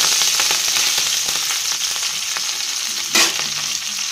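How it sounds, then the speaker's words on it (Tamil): Mustard seeds, dried red chillies and curry leaves fry in hot oil for a horse gram rasam tempering, giving a loud, close, crackling sizzle with scattered pops and one sharp burst near the end, no talking. "அதில் கொஞ்சம் கடுகு போட்டிருக்கேன் கடுகு போட்டுட்டு ரெண்டு வரமிளகாய் கடுகு இருக்குன்னு இந்த கருவேப்பிலை போட்டேன்"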